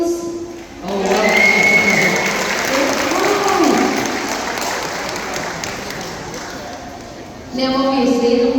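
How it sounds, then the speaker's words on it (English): An audience claps and cheers loudly for several seconds, with voices mixed in, before a speaker resumes, at a sea lion show in Knowsley Safari. "Do give him a little round of applause for me"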